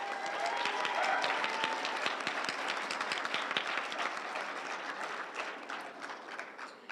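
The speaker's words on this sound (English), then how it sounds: "Can we give a round of applause to our two performers?" A room full of people at a literary reading and launch party breaks into loud, dense applause for two performers, sustained for several seconds and slowly easing off toward the end.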